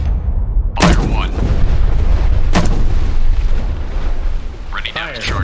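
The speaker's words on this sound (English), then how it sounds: "Ready depth charges. Shallow pattern. Stand by to fire." Depth charges fire from a destroyer in the naval combat game Destroyer The U-Boat Hunter, with loud booming launches over a dense rumbling bed and radio-style crew voices calling out commands around the blasts.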